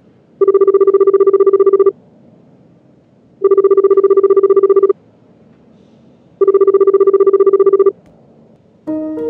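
A telephone rings in the Melon Playground game, three loud, even electronic ring bursts of about a second and a half each, separated by short silences, ending with a brief tone as the call connects.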